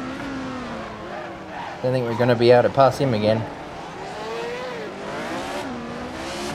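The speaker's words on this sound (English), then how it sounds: "I hear engines." Period race car engines from a 1967 Monaco Formula 1 VR racing game, including a Brabham BT24, roar up loud and close for a couple of seconds with revving, tire squeal, and quieter engine hum under someone talking.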